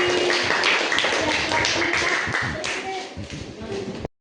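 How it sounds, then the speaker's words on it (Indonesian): A sixth-grade primary school class claps for a student group, with brisk, uneven hand claps that run for several seconds before cutting off abruptly. "Kasih dulu tepuk tangan untuk kelompok matahari."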